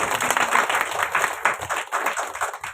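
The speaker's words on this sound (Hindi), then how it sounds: "ताली बजाइए उन लोगों के लिए।" Audience applause in a church, dense rapid clapping from a crowd lasting a few seconds and fading slightly toward the end.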